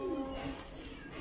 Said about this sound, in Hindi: बड़ा शानदार और अच्छा कबूतर है मेरा